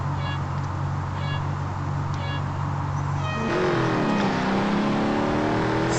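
Ford Falcon FG X race car engine in Real Racing 3 at Suzuka, a steady droning engine tone held at full throttle that shifts midway into rising and falling revs, continuous and loud.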